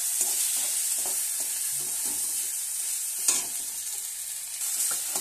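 Spices with tomato, salt, chili powder and mustard-cumin paste sautéing in a pan for a fish and cauliflower curry, a soft continuous sizzle with quiet spatula stirs and one sharper scrape.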